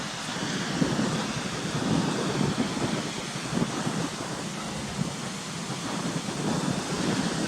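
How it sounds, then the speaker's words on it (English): Water rushes down rapids into a ravine gully below the Cautley Spout waterfall, a continuous broad roar mixed with gusting wind against the microphone, loud and steady with no voices. "You can hear the water running down like bits of rapids and all that down the bottom there into the gully."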